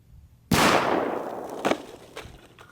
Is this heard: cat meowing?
no